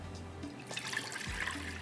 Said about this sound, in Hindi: थोड़ा सा पानी डालेंगे और चिकन को बॉईल कर लेंगे।